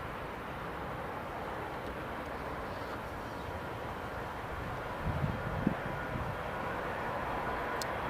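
An EasyJet airliner at Newcastle International Airport gives a steady, fairly distant broadband roar throughout, swelling slightly in the middle, with no talking.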